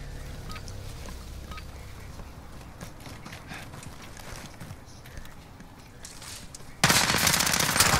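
Rapid gunfire in a video game after a trigger pull, a steady burst of clattering shots that grows sharply louder and denser over the final second.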